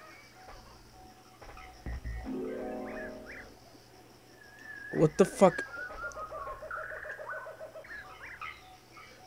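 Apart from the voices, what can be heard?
bird in the video game Barbie Explorer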